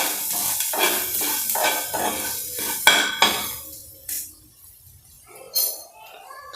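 Fresh coconut stirred into a dish in a pan on the stove, with a soft sizzle, scraping, and a few clinks of a spoon against the pan, close and intermittent with no talk.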